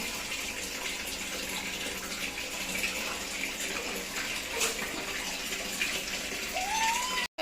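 Water running steadily into a bath, a broad even rush that continues throughout, with a brief thin whistle-like sound near the end.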